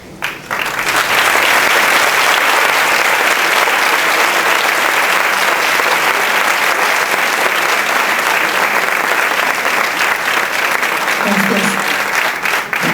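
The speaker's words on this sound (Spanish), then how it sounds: "esta mañana pido un aplauso para ella." Loud, dense applause from an audience at a pedagogy conference session, sustained and steady for the full stretch with a slight swell near the end.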